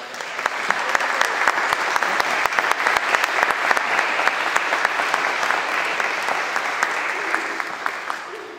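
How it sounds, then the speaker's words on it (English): Sustained crowd applause at a lecture, steady and fairly loud, with sharp individual claps standing out throughout. "Can we have a round of applause?"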